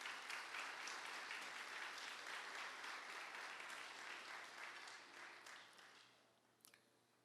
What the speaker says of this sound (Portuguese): Aplauda a Jesus porque Ele é bom.